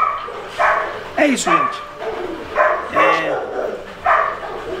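A Rottweiler at a kennel gives several short barks and yips in spaced bursts, loud and near, with a person talking over them.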